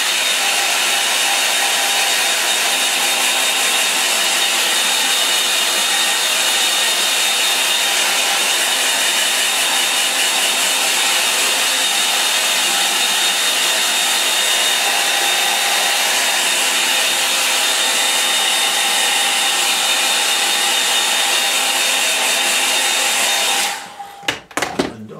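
A hair dryer blows steadily on watercolour paint in a line and wash snow scene, a loud continuous whooshing hum lasting about 24 seconds alone before cutting off abruptly near the end.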